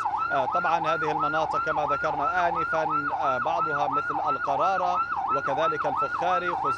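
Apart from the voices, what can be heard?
ambulance siren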